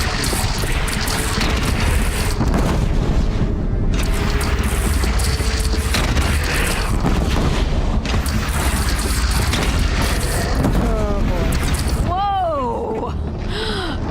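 A bridge is shot down in Horizon Zero Dawn, booming and rumbling as it collapses in a long, loud, continuous crash with clattering debris, ending in descending tonal groans.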